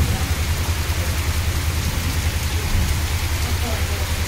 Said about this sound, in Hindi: देखो दोस्तों, बरसात काफ़ी हो रही है।